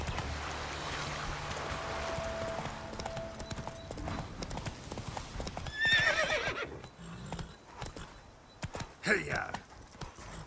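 Horse Roach from The Witcher 3 gallops with steady hoofbeat clip-clop and whinnies loudly around the middle and again near the end, amid game ambience with a voice heard at times.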